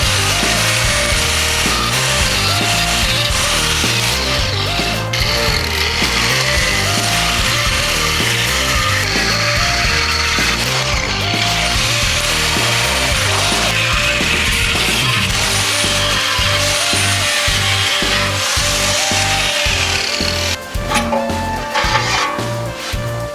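An angle grinder cutting a square opening in the steel shell of a gas water heater, a loud, continuous harsh whine and grinding roar held steadily throughout, close up with no talk.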